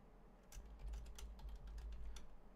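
Steady, fairly quiet typing on a computer keyboard while entering Python code, a continuous patter of soft clicks over a low hum.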